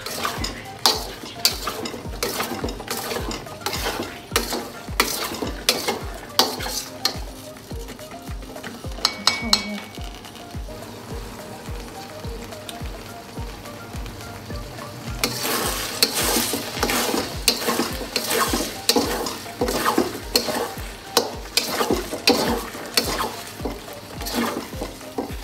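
Semolina halwa frying in ghee in a pan while a spoon stirs it continuously, giving steady rhythmic scraping strokes over a constant sizzle that grows louder and busier in the second half.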